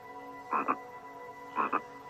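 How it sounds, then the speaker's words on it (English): Two loud frog croaks, each a short double-pulsed call, spaced about a second apart over a steady low hum in an African wildlife setting. "a curious frog saw this beautiful creature. Overawed by his glowing skin, he croaked loud praises"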